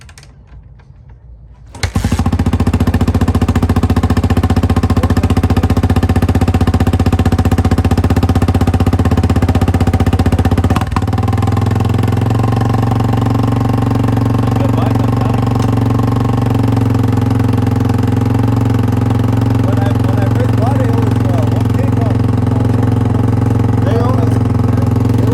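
A 1989 Honda XR250R motorcycle engine starting after a couple of seconds of quiet, then running loud and close as a steady single-cylinder drone with slight shifts in pitch as the throttle is worked, with voices faint underneath.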